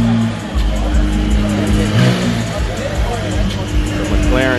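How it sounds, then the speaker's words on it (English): A McLaren at a car show revs its engine loudly and close by, a steady roaring drone with rising bursts, while crowd noise and voices carry on around it. "McLaren coming out to play."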